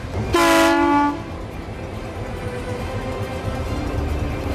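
A freshly refurbished train pulls away, sounding one loud horn blast early on, followed by a steady low rumble of rolling wheels and carriages as it moves off, with no voices.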